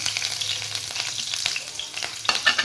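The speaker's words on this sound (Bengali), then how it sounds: "তেলটা গরম হয়ে গেছে, পেঁয়াজ লঙ্কাগুলো দিয়ে দিব" Onions and green chillies frying in hot oil on a tawa, a steady close sizzle with crackling spatter bursts and occasional stirring scrapes, heard alone without talk.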